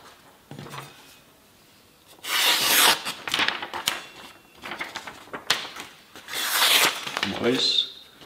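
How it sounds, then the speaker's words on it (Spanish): A Cai Dao cleaver is drawn across a wet sharpening stone in long, gritty rasping strokes, two main bursts of repeated passes with quieter scraping between, while someone talks over them. "vamos a darle unas pasadas asentando sobre la piedra para igualar el filo en la misma dirección"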